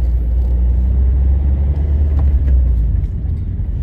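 A manual car drives in second gear, its engine giving a loud, steady low rumble with continuous road noise close by and no talk.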